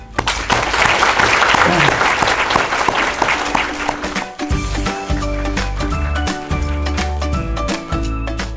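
A crowd applauds steadily at an event marking 60 years of Korea-Australia diplomatic relations, clapping densely at first, then thinning into a more uneven, rhythmic patter as it continues.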